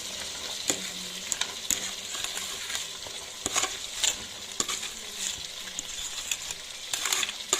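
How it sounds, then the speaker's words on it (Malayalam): Chopped banana stem tipped into a boiling pickle mixture and stirred, giving a steady bubbling sizzle broken by frequent sharp clinks and scrapes of the spoon against the pan, near and fairly loud, with no talking. "ഇനി നമ്മൾ അരിഞ്ഞിരിക്കുന്ന വാഴപ്പിണ്ടി അത് ഫുള്ള് ഇട്ട് കൊടുക്കുവാണ്"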